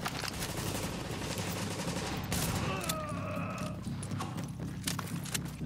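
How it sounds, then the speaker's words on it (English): Rapid bursts of gunfire in a video game keep up a dense, crackling rattle throughout, with a few brief whistling tones mixed in. "Nothing like shooting somebody as they're running away."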